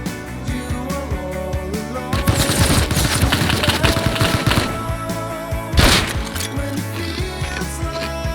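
A powerful base turret in Rust firing loud, sustained automatic bursts at close range, with heavy thuds and impacts and one louder blast near the end.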